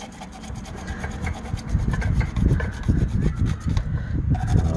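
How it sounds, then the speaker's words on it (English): Balancing weight tape is scraped off a wheel in repeated rough rasping strokes, close and fairly loud, with a steady back-and-forth rhythm and no talking. "we're gonna go ahead and scrape the tape"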